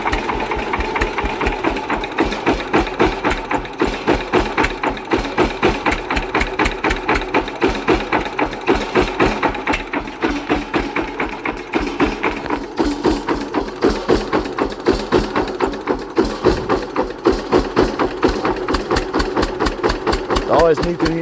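A Hatz diesel engine converted to run on wood gas from a DIY gasifier chugs steadily, a loud, evenly repeating thump-thump rhythm that persists throughout at close range.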